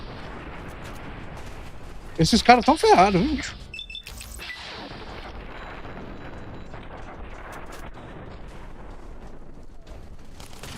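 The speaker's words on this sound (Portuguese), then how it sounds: "Se essa arma só usa um de munição pra dar um tiro desse" A gun fires in Fallout: New Vegas with a loud, booming burst that rings out briefly before fading, while someone speaks Portuguese over the game audio afterward.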